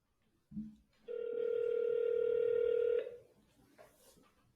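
A telephone call connects with a short click, then a single steady ringback tone sounds for about two seconds before cutting off, followed by faint room noise.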